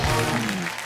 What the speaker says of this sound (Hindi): जोरदार तालियां हो जाए दलेर पाजी के लिए